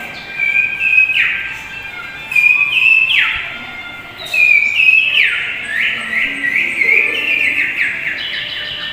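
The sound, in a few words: voice imitating bird song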